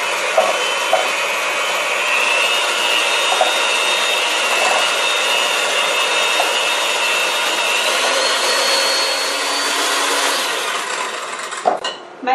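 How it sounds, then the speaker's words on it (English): An electric hand mixer beats eggs in a big mixing bowl, giving a steady, loud whir that runs almost unbroken for the whole stretch and then cuts off near the end, with no talking. "I'm going to put my eggs in this big mixing bowl, and I'm going to use my hand mixer,"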